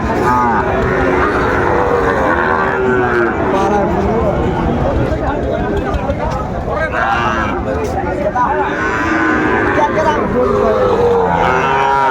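An eight-month-old Sahiwal bull calf moos at a busy cattle market, its calls mixed into a constant loud crowd babble and nearby talking.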